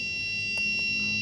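An electronic buzzer in a student microcontroller temperature project sounds as a steady, high, thin tone held throughout, with a couple of soft clicks underneath.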